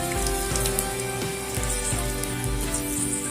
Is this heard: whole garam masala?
yes